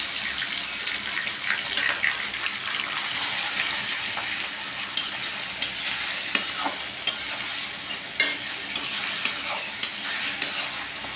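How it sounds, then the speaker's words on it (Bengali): Onions and bay leaves frying in a pan for a tender goat meat curry, giving a steady close sizzle with repeated stirring scrapes and clicks throughout, no talking. "এখন আমি পেঁয়াজ কিছু দিয়ে দিলাম কিছু"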